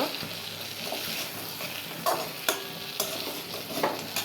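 Peas are sautéed in a wok with Kashmiri chilli powder and sugar, a close sizzle with repeated spatula scrapes and clanks against the metal.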